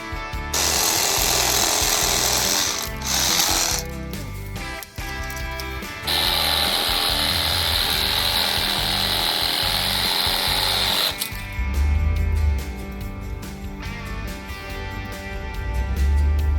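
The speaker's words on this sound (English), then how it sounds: "Sawzall." A Sawzall reciprocating saw cuts steadily and loudly for the whole stretch, its harsh buzzing rattle broken by a few brief stops and changes in pitch, near and alone.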